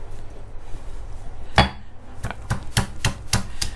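Fresh ginger root for ginger tea is smashed on a board: one sharp knock, then a quicker series of five or six hard, close thuds over faint background noise.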